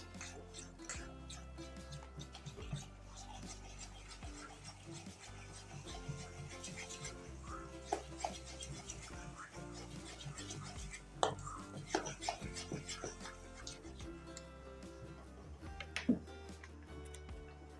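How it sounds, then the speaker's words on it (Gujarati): Khaman dhokla batter being stirred in a bowl after Eno is mixed in, a steady run of soft scraping, ticking and clinking from the spoon against the vessel, close and fairly quiet throughout. "હવે આને સરસ રીતના મિક્સ હલાવી લેશું"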